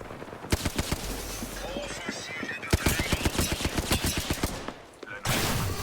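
Automatic gunfire from the Apex Legends video game comes in rapid rattling bursts mixed with single sharp shots and game effects, loud and close throughout.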